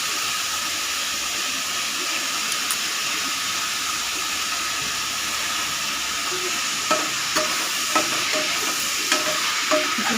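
Small-cut washed vegetables being stirred in a hot frying pan for lunch, with a steady sizzle and hiss throughout and a few light knocks of the utensil near the end, close and without talk.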